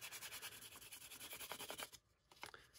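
An epoxy glitter pen is rubbed with 200 to 400 grit sandpaper, a close, soft rhythmic rasping of quick back-and-forth strokes that stops briefly before a few final scrapes.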